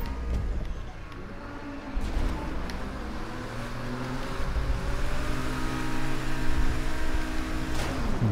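Car engine in a GTA V race revving hard and straining steadily, with a continuous broadband roar and rising whine, sliding through the end of a spiral track, loud and close throughout.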